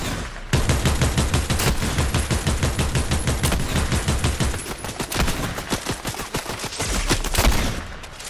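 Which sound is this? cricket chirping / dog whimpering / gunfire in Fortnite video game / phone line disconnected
gunfire in Fortnite video game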